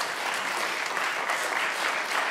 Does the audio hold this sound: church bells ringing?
no